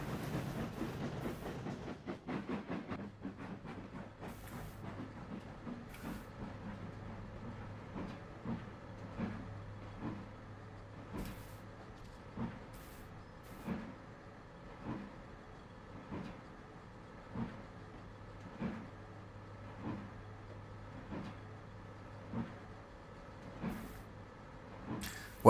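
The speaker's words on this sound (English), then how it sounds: "I hear a train going very fast the other way." A freight train runs in the Trainz railway simulator game, rumbling steadily, with rhythmic wheel clacks over rail joints repeating every second or two at a moderate distance.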